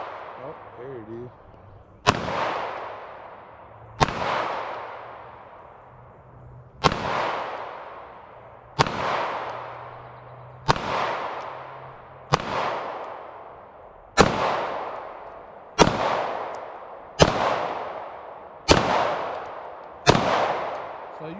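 Pistol shots at an outdoor range from a Staccato P and a CZ P09, about ten loud sharp reports spaced roughly two seconds apart, each followed by a brief echoing decay.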